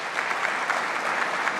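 Audience applause after a governor's speech at a Western New York event honoring a mayor, steady dense clapping from a crowd throughout, fairly loud with no talking.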